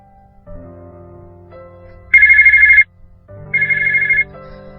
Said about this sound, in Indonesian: Suara dering HP Diva menandakan ada telepon masuk